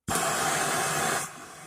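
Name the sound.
torch flame heating a steel pipe wrench part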